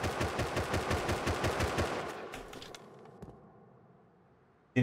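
A rapid burst of automatic gunfire from a turret armed with an M39 rifle in the video game Rust. The shots come in an even, quick rhythm, then fade into a faint echoing tail with a single distant crack and a sudden thump at the end.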